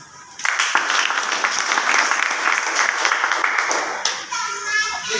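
Loud applause from a gathered audience at a motivational business meeting, a dense burst of many hands clapping that starts abruptly and holds strong before thinning near the end.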